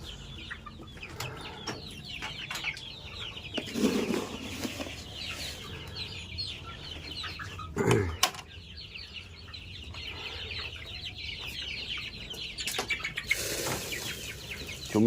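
Kampung chickens cluck steadily in a large coop, a dense overlapping chorus with a few louder squawks and brief wing flaps, close by and without talk.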